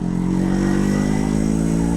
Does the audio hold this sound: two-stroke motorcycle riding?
yes